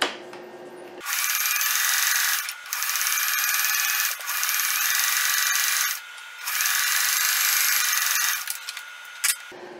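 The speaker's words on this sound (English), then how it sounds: "I just did the straight stitch, now I'm going to do some zigzag" A sewing machine runs a zigzag stitch along a shirt edge, whirring loudly and close in three long continuous bursts separated by short pauses, with no speech.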